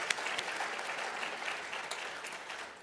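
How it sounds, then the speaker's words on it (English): Quick round of applause from an audience at a brain injury awareness event: moderate, even clapping from a room of people, sustained briefly and tapering slightly at the end. "can we just give them a quick round of applause?"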